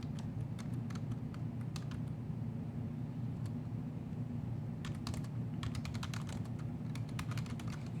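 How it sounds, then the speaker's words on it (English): Keys clatter on a computer keyboard during a Linux lesson, irregular bursts of quick taps over a steady hum of background noise, no talk. "Oh, you're typing WC."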